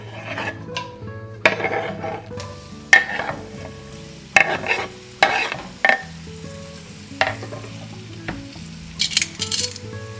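Tortilla squares fry in hot oil for migas with a constant sizzle, while a utensil scrapes and clanks against the pan in irregular bursts, close by and without speech.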